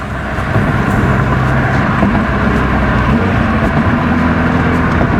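Steady engine drone and road noise inside a 2020 Subaru WRX with a six-speed swap, cruising in fifth gear while the gear indicator misreads, a constant loud hum with no talking.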